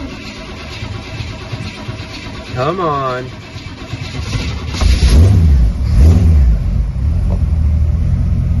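A 1929 Ford Model A engine cranks and catches, then rumbles and revs up in a few low surges, close by, with a voice coaxing it over the start.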